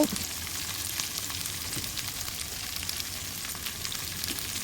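Okra pieces fry with salt in a pan, giving a steady, close sizzle with soft crackling for the whole stretch and no one talking.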